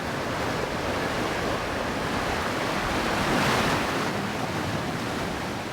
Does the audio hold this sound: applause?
no